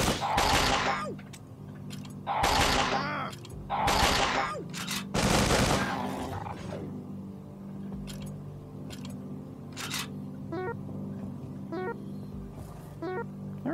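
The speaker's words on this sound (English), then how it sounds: "Now, if we fire 5 bullets," Bursts of bullets fired in the video game Sword of the Stars: The Pit come in several loud, closely spaced volleys up front, followed by fainter ticking clicks and game sounds.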